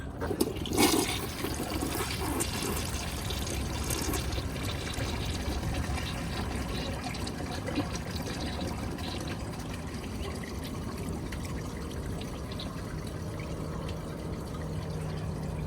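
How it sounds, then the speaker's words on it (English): A vintage Briggs Beautyware toilet flushes with a loud rush of swirling water that keeps running and gurgling steadily as the tank refills. "But here's a flush."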